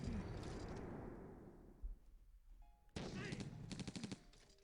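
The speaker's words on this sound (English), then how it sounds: "Yeah, there you see the defensive bombard." A defensive bombard firing in a strategy video game: a burst of booming shots that fades, a short lull, then a second sharp volley of rapid heavy blasts, fairly faint overall.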